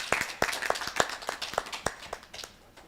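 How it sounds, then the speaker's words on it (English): An audience claps at a summit session, with scattered, uneven hand claps spread across the moment and no swelling ovation. "A round of applause."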